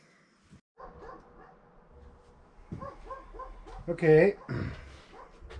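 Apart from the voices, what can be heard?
neighbor dogs barking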